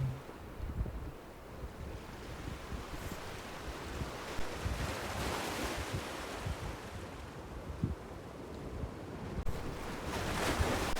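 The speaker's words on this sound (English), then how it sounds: "Just sit and listen to the ocean waves all day long." Steady ocean surf rolls and washes continuously at Pemaquid Point, Maine, mixed with gusty wind noise buffeting the microphone; no voices.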